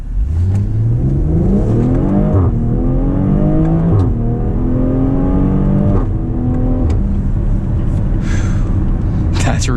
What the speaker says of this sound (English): Let's do a little 0 to 60 here.